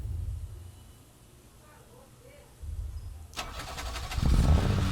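Rally car engine in Sebastien Loeb Rally EVO fires up after a quiet stretch, shifting from a low idle rumble to a sudden loud start and rising revs, with a person talking underneath.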